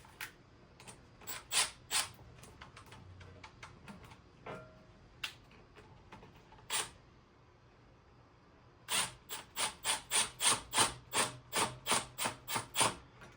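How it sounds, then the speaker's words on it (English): Hose clamp being tightened on the intake air filter of a BMW N20/N26 F30/F32, a series of sharp ratcheting clicks in quick bursts, fairly close and quiet, with no talking. "That simply just slides over the end and tighten down the clamp."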